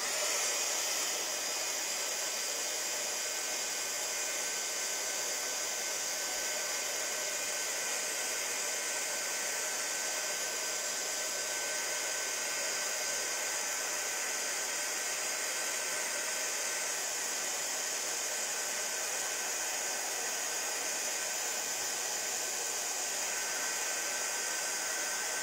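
A heat tool warms handmade paper rose leaves, blowing a loud, steady, unbroken hiss-like whoosh for the whole stretch, with no talk over it.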